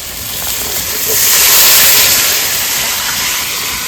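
Water poured into spice paste frying in a pan for a chital fish curry gives a loud, steady steam hiss and sizzle that swells in the middle and eases off slightly, with no talking.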